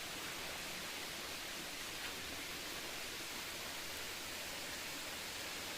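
Sunnapugadda waterfall in a forest near Araku makes a continuous broadband rush of falling water. It sounds steady and even, as if heard from partway up the falls.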